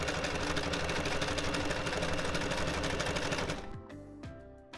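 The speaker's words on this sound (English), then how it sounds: "now I'm going to top stitch it as it was, so it's a bit stronger" Sewing machine top stitching a handbag: a loud, fast, continuous mechanical whirr with rapid needle ticking that runs steadily, then slows and winds down into a few separate clunks near the end.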